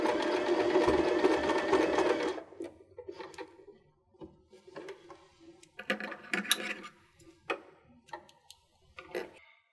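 A sewing machine stitches across a join on a pillowcase, a dense continuous mechanical whirr for about two seconds, then stopping and restarting in short clicking bursts, close and fairly quiet.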